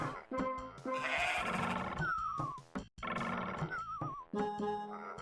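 Loud, drawn-out bleating cries from goat monsters in Doom, in two long bursts, goat-like and warbling, layered over a dense game soundscape with no speech.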